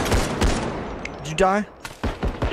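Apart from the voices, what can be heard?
gunfire from a video game shooter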